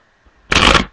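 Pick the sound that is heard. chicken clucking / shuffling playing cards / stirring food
shuffling playing cards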